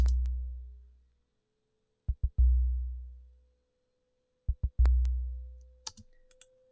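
Two deep Omnisphere synth notes with the delay removed each decay quickly into silence, with short clicks just before each note and a few faint clicks at the end.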